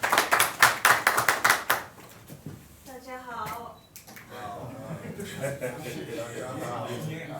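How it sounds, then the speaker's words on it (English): Audience at a trade conference clapping in a quick burst of hand claps for the first couple of seconds, then fading out as people begin talking and chatter takes over. "Je vous prie d'applaudir cette jeune femme qui est derrière."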